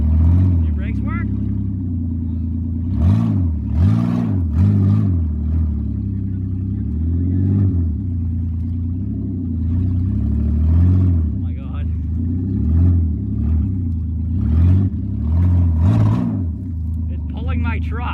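A truck engine revs in repeated surges with a rough mid-pitched rumble, pulling another truck down a driveway; the revving swells and fades several times while people talk over it.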